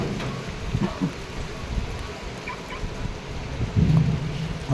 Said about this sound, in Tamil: ஆற்றுல நல்ல மழை இருந்தாலும் குளிச்சுட்டு இருக்கிறாங்க பாருங்க. சரியான மழை.